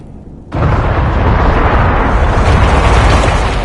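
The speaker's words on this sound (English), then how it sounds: "Explosions in an underground ruin." Explosions rip through an underground ruin in the video game Dragon Age: Inquisition's Trespasser, where the Qunari run a large operation. After a brief quiet start, a loud broadband blast erupts and rolls on as a sustained, roaring rumble to the end.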